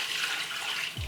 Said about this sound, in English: We're gonna add our water and broth.